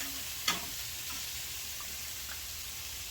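Onions and peppers fry and caramelize in a pan with a continuous hissing sizzle and one brief utensil scrape near the start.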